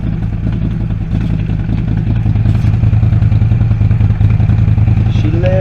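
A CFMOTO ZForce side-by-side runs again after a hydro-lock repair, its engine chugging loud and steady with a rough, clattering idle, close by throughout.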